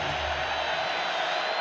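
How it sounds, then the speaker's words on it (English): Football stadium crowd at an FCS quarterfinal between Montana and South Dakota, a loud, steady roar of cheering that fills the whole moment without letting up. "This crowd has been relentless."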